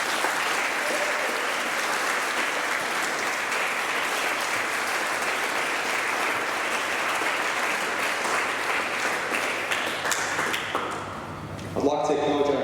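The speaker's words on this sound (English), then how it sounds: "Can we please give a round of applause to express our gratitude?" At a Year 12 graduation ceremony, an audience applauds teachers with a long, dense, steady roll of clapping that eases near the end before a voice comes in.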